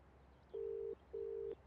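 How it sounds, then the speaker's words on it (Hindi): Two evenly spaced ringback tones sound over a quiet line, each a steady electronic beep lasting under half a second. "शशांक को ट्राई करता हूँ।"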